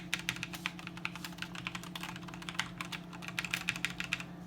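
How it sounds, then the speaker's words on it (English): Rapid, steady typing on a Razer BlackWidow Chroma V2 Tournament Edition mechanical keyboard, dense overlapping keystroke clacks over a low electrical hum, close and moderately loud with no talking. "if I spam the keys a bit, you're definitely gonna hear it"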